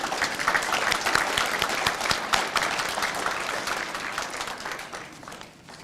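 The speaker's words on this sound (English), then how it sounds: "So you guys could applause for that right now" Loud, dense audience applause fills a hall at a nursing pinning ceremony, sustained evenly for several seconds before tapering slightly at the end.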